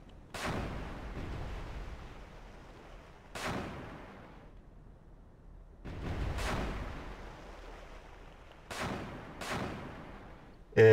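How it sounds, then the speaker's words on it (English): Naval deck cannons on a surface warship in the Cold Waters video game fire in a series of heavy booming shots, five blasts spaced irregularly with long rumbling decays between them. "And now you see, both cannons are firing."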